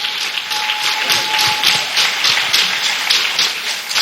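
A church congregation applauds steadily throughout, with dense, sustained clapping and some cheering at moderate-to-loud level and no speech.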